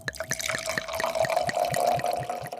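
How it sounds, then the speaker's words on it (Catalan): Water pours into a bottle of shower gel to dilute it, a rapid run of close splashy drips and trickles lasting a few seconds, with no talking. "Poso la mateixa quantitat d'aigua,"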